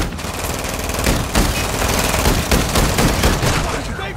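Dense automatic gunfire in a military shooter video game, loud and sustained with bursts of rapid shots throughout, with a voice talking over the firing.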